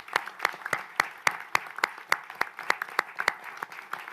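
A small audience claps at a ministerial announcement on business extortion, producing sparse, distinct claps that fall into a fairly regular rhythm, close and moderately loud.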